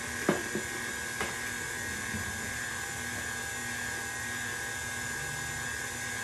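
An electric hand mixer blends orange cake batter with vanilla, a steady high-pitched motor whir running continuously at moderate volume, with a couple of faint knocks near the start.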